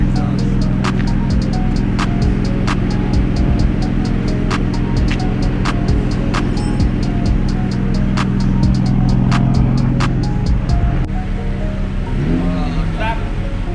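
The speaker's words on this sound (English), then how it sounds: "This is my exhaust." A Nissan/Infiniti G35 with a new aftermarket exhaust idles in a steady, low, droning hum, with faint sharp ticks scattered over it and a slight drop in level near the end.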